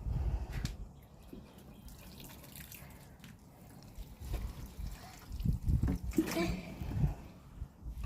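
Water dribbles and drips irregularly while dried-out plants are watered, with soft splashes and trickles close by and a few louder pours near the end.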